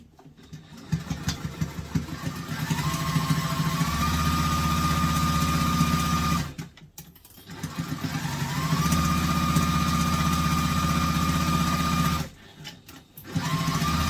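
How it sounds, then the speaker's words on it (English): Sewing machine basting along the edge of a backpack in two long continuous runs with brief pauses between them, loud and close, with the motor whirring steadily throughout. "Now we're going to sew along the edge."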